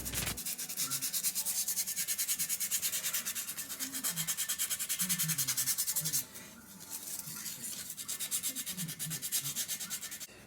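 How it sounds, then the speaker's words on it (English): Sandpaper rubs inside the metal bore of a Rover 75 or MG ZT rear trailing arm in quick, rhythmic back-and-forth strokes, close and continuous for several seconds, alone without speech. "I will start by cleaning up the surface inside with some sandpaper."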